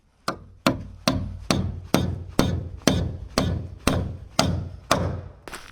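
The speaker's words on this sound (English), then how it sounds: "As always, using the appropriate hammer." Ten evenly spaced hammer blows ring out, each a sharp metallic strike with a short decaying ring, steady and close.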